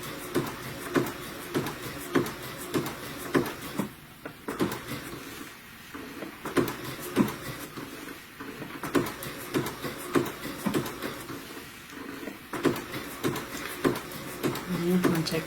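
Sewing machine slowly stitching flannel applique on a Christmas stocking, a steady run of close rhythmic needle thumps and clicks, with a voice talking quietly over it.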